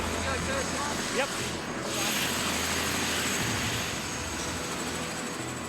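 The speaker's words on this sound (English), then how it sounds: "The team carefully positioned Bruce in the chopper, as any in-flight turbulence will be agonising" Rescue helicopter with an injured man aboard in New Zealand high country, a steady, loud rotor and engine roar filling the whole stretch without pause.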